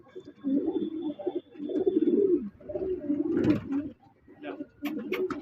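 A wild pigeon coos close by in a series of soft, throaty, rolling calls with brief gaps between them.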